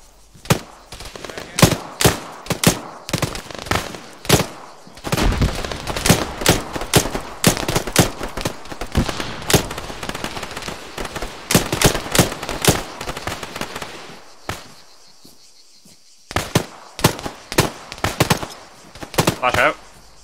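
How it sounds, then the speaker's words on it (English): Rifle gunfire during military urban-combat (MOUT) training as half-empty magazines are emptied: a long run of sharp, loud single shots and short bursts at irregular spacing, with a brief lull near the end before more shots resume. "I'm emptying all my half-empty magazines now."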